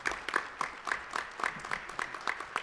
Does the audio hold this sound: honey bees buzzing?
no